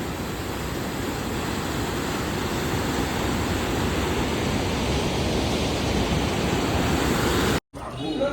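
Floodwater from the Bharangi river rushes through a submerged temple, a dense, continuous roaring wash that stays loud and even throughout before a brief dropout near the end.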